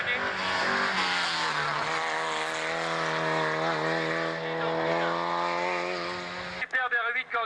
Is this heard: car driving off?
yes